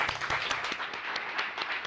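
Audience applause for panelists leaving the stage at a World Food Day celebration, a steady patter of many clapping hands at moderate distance, continuous throughout with no voices over it.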